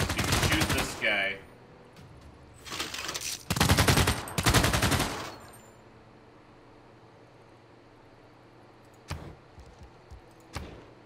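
Units open fire on an enemy in Civilization 6, with loud bursts of rapid gunshots in the first half followed by a quiet stretch and a couple of sharp isolated hits near the end.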